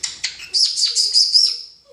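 A pet parrot chirps and squawks close by in a quick series of shrill, high bursts, with no one talking.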